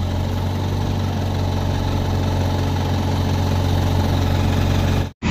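A road roller's diesel engine idles steadily after a hard start, a low continuous rumble with vibration and no talk, cutting out briefly near the end.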